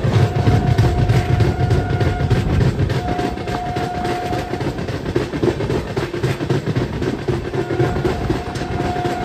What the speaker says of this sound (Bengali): 3 মিনিটের একটা স্টপেজ দিয়ে আবার ছেড়ে যাচ্ছে গুসকরা।